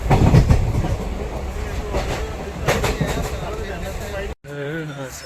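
Rumble and rattle of a passenger train in motion on the route from Guwahati toward Hojai, heard from inside a carriage as steady wheel and car noise with a brief cutout near the end, with some voices underneath.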